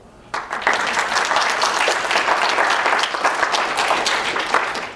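Library audience at an author talk clapping to vote for a song: a burst of crowd applause starts abruptly and keeps up steadily, dense and even, for several seconds.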